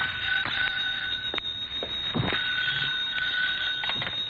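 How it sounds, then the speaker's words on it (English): Bell telephone ringing continuously and loudly in an old-time detective radio drama, a sustained shrill trilling with rattling pulses and no talk. "My phone was ringing when I got there."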